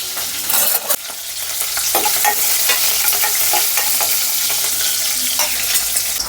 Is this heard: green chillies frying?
yes